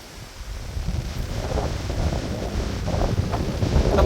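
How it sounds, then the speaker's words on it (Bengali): Strong wind blows beside a canal near the Mahananda river barrage on a rainy day, a steady, close, rumbling buffet that rises slightly toward the end, with no talking. "দারুণ হাওয়া"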